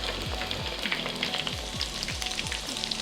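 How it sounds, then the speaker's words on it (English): Crayfish frying in hot oil after a catch-and-cook in Northland, New Zealand, giving a steady close sizzle with bubbling crackle throughout and repeated low thumps underneath. "We're going to get them in some hot oil and we'll see how they taste."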